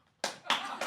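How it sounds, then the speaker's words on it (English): A person claps hands in an unusual backwards style, with three sharp, close claps spaced evenly and each ringing briefly, with no talk over them. "you can clap backwards"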